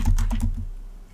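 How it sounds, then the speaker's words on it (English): Quick typing on a computer keyboard: a short run of close, crisp key taps that tail off into quiet. "And then type in the following"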